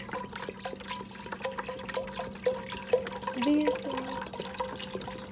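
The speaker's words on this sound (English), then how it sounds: "Now we are going to add some chicken broth." A carton of chicken broth pours into a pot of water, giving a quiet, continuous gurgling and trickling with a few small splashes, heard alone at close range.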